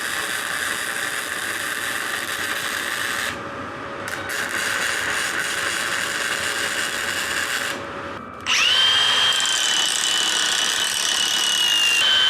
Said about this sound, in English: now I'm going to drill the first hole through this thing